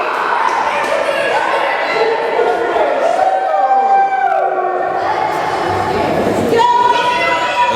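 A wrestling crowd at an NWA Mountain State show keeps up loud, continuous cheering and shouting, with an announcer's voice over the noise and occasional whoops and howls rising above it.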